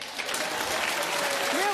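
A studio audience on a daytime talk show claps in a brief, dense burst, with a voice starting to speak over the applause at the end.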